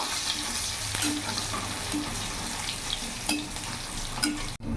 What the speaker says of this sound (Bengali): ফোড়নটা ভাজা ভাজা হয়ে গেছে